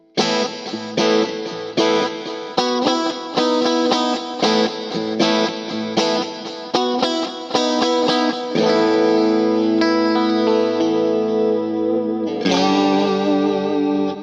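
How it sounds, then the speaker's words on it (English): Clean electric guitar tone from a Two Notes Genome preset, treated with delay and reverb for a session-style sound, plays a steady run of picked chords and notes, then sustained ringing chords near the end, loud and alone with no talk. "this tone I was using for the clean part that you hear pretty much throughout the track."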